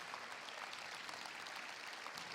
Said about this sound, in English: I would like us to actually all turn and clap again for our youth that are here